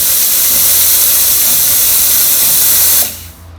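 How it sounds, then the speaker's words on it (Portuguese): A Saeco SE50 espresso machine's pump pushes steam at its lowest speed, giving a loud, steady broadband hiss with a faint low pump hum beneath, which cuts off abruptly near the end. "Você está escutando o toque da bomba."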